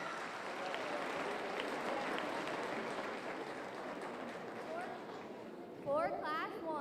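Crowd applause at a youth fair market hog show, a steady, moderate clapping from an audience in a show ring, ending with a short animal squeal or call near the close.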